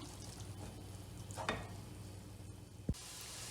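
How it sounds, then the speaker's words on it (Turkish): Leek filling with tomato paste sautéing in a pan, a quiet, steady sizzle with a couple of brief scraping stirs and a short clink near the end. "Şimdi salçayla birlikte bir süre daha kavuracağım"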